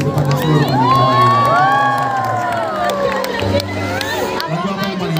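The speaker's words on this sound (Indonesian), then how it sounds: "berikan tepuk tangan yang sangat hangat dan meriah sekali untuk seluruh tim produksi kita" Concert crowd at an outdoor music festival cheering, whooping and applauding loudly and continuously, a dense roar of many voices with shouts rising above it.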